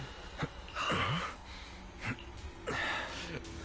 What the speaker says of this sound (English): there's a lot of ASMR breathing